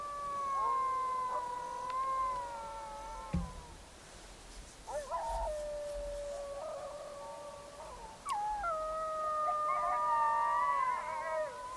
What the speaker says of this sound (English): Those coyotes, they're right at the bottom of this field.